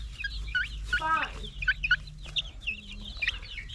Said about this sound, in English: Morgan, we want the chickens to come outside, baby